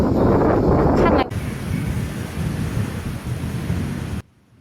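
Thunderstorm with heavy rain and wind in coastal China's Fujian, Hunan and Guangdong: a loud rumbling roar at first, then steady rain noise with gusty wind buffeting, which cuts off abruptly near the end.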